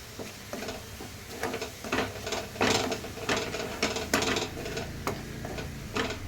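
A spoon mashes and stirs a black jaggery mixture, giving a run of close, uneven clicks and scrapes with soft wet squelches. It is fairly quiet and there is no talk.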